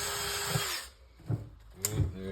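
A power drill fitted with a small bit bores into stripped rotor bolts in short bursts, whirring up and cutting off several times, fairly quiet and close with no speech.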